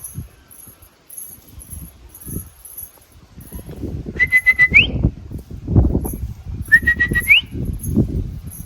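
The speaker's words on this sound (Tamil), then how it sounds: "நம்மளோட விசில் ஸ்டைல் இதாங்க." A person on a rooftop pigeon loft whistles to call pigeons home: two sustained high whistles, each ending in a quick upward flick, heard over outdoor rustling and faint bird sounds.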